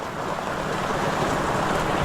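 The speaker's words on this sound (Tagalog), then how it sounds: "Kaso, ang lakas na ng ulan" Heavy rain pours down as a dense, steady roar with no pauses, close and loud.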